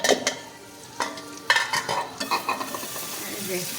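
Chicken pieces being sautéed in a pan, a spoon scraping and stirring in uneven strokes with clinks of metal over a soft sizzle, moderately close, no talking.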